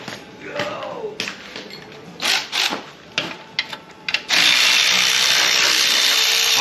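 The last bolt comes out of a Buick 401 Nailhead engine to a run of scraping, ratcheting clicks and metallic rubs, then gives way to a loud, steady whirring tool noise close by.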